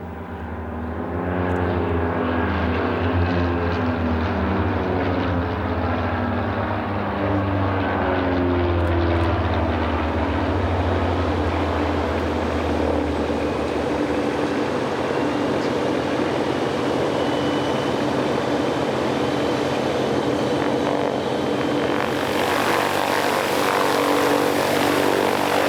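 Scottish Aviation Bulldog (SK61) propeller trainer flying at an air show in Göteborg, its engine and propeller giving a loud, continuous droning roar that shifts in tone as it passes.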